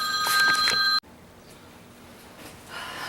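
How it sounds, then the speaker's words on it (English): Telephone ringing inside a shop building under renovation, a bright electronic ring with steady tones for about one second, fairly loud and close, then cut off, leaving quiet room tone. "Oh, wouldn't you know, the phone's going to ring."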